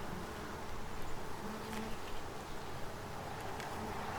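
A busy cloud of honey bees drones steadily around lifted hive frames, a soft continuous buzz heard close with slight swells and no speech.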